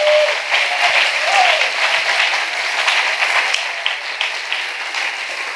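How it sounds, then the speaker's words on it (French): A church congregation claps together to acclaim Jesus at a New Year's Eve night prayer service, a dense, continuous round of applause lasting several seconds with a faint voice briefly above it. "Let us clap for Jesus."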